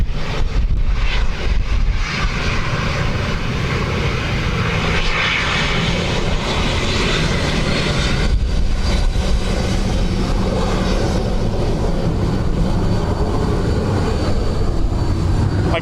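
An airliner landing at Dublin Airport in strong wind, loud close jet engine roar that swells and rushes with gusty wind buffeting the microphone, continuous and dominant with no talking.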